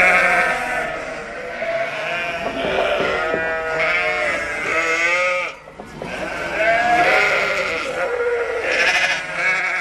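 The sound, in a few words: flock of sheep bleating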